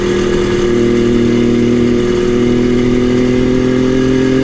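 A Kawasaki H2 motorcycle engine running loud and close, a steady droning tone that holds nearly constant through the short stretch.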